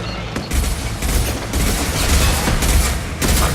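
Rapid weapon fire and booming explosions from the video game Mass Effect 2 pound in dense, loud bursts, a sustained fusillade with sharp cracks punctuating the barrage.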